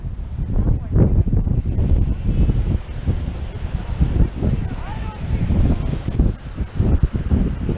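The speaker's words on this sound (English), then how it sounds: "This wind is blowing me away." Strong gusts of wind buffet the microphone outdoors, rumbling and surging unevenly in loud, low blasts with brief lulls.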